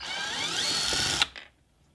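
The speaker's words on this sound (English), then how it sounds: "take a T25 bit, remove the top screw first" A power driver fitted with a T25 bit spins out a screw from a BMW F30 door panel, a close, steady whir lasting about a second before it stops abruptly with a faint click.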